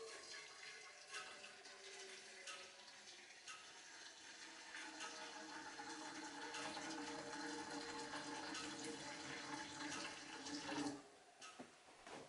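Very hot bath water runs from a tap during a trip in Sweden, a steady rushing flow that lasts about eleven seconds before tapering off, with no voices.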